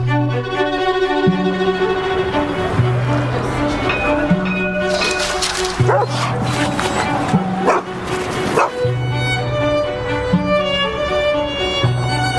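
Dogs bark repeatedly in the film Stray, set in Turkey, with loud close barks and yips over a sustained droning music tone, while voices talk through part of the scene.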